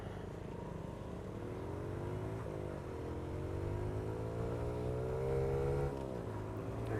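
Honda Monkey motorcycle engine running steadily in a high gear during a ride, a continuous buzzing drone with gentle rises in pitch and a constant wind rush.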